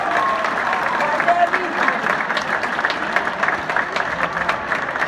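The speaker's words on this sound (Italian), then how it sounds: "Facciamo un applauso all'organizzazione." Audience applause for the organizers at an Italian championship dance event in Forlì, a steady dense wash of many hands clapping at moderate distance, sustained evenly throughout with crowd murmur underneath.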